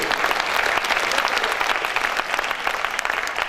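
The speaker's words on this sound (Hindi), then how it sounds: "मेरी कविता शुरू होती है आपकी तालियों के साथ" A crowd at an Indian poetry gathering (kavi sammelan) claps steadily, a loud, dense, sustained round of applause lasting several seconds with no voices over it.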